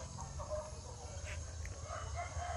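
Chickens on a farm with ubi (purple yam) plantings: faint clucks and short calls at middle distance over a steady outdoor hum.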